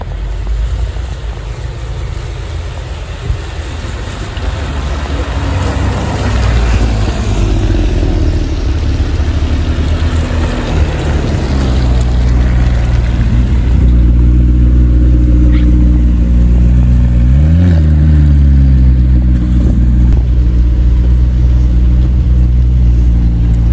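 At the Le Mans circuit, cars including a McLaren drive past with loud engine roars that swell and fade, heard amid heavy wind buffeting on the microphone; one engine revs with rising and falling pitch.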